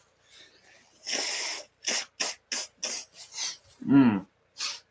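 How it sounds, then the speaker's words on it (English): A series of short, breathy nasal blasts and snorts, several in quick succession, close up, like someone blowing their nose hard into a tissue. "I'm just going to blow my nose"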